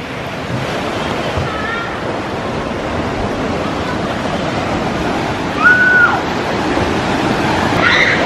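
Steady wash of ocean surf at Cozy Beach in Pattaya, a continuous roar of breaking waves mixed with wind buffeting the microphone, with faint distant voices.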